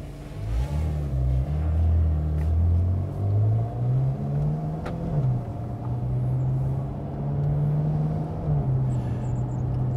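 Ferrari California 30 V8 engine on a test drive, a deep steady rumble that rises and shifts pitch as the car pulls through gears, heard from inside the cabin, loud and continuous, without speech.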